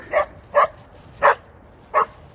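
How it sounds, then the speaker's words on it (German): Dogs bark outdoors on a walk toward beehives, four short, sharp barks spaced irregularly and fairly close, with quiet gaps between them and no talk. "Könnt ihr noch ein bisschen lauter bellen?"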